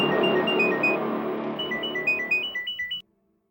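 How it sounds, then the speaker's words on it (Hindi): A phone ringtone plays loud and close, a steady melodic ring with a tinkling tune that cuts off sharply after about three seconds into near silence. "आएगा फोन।"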